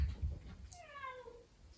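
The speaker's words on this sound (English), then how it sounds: "my cat is begging to go outside" A house cat meows in a drawn-out, begging cry that rises and falls, close and clear, over a low indoor rumble, with a shorter call at the start.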